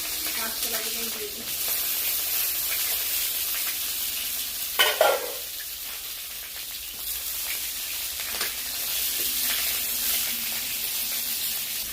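Eggplant and raw banana frying together in a pan for a Bengali sukto, a soft steady sizzle with brief louder bursts of stirring and spattering, no talk over it.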